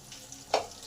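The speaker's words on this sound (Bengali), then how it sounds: "এবার জিরেটা হাফ মিনিট ভেজে দেবো।" Cumin seeds, broken dried chilli and bay leaf fry in hot oil, a faint, brief sizzle with one sharp crackle burst near the middle.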